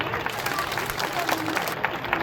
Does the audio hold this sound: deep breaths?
no